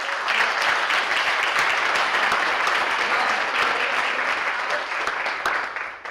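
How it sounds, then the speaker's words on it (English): Audience applause for administrators at a foundation grant announcement, a steady, dense patter of many hands clapping that holds evenly throughout. "give them a round of applause for our administrators"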